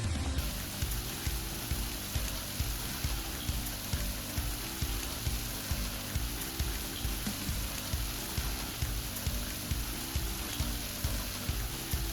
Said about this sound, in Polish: Tego dnia złapał nas też przelotny deszcz